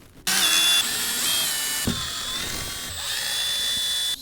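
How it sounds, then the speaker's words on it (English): Power driver with a Phillips head backing out the screws of a factory speaker in a Toyota Tacoma: a steady high whir that starts abruptly, holds for several seconds with a brief break partway through, close up and with no talking. "Next up is the 4 screws holding in the factory speaker. We're going to use our Phillips head for this."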